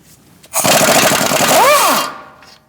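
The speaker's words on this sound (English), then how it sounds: "we're going to take our nut off with an 18mm socket" An 18mm socket on a tool spins the outer tie rod nut off a 2016-2019 Chevrolet Cruze after penetrating oil was applied, making a loud, steady buzzing run of about one and a half seconds that ends with a rising and falling whine.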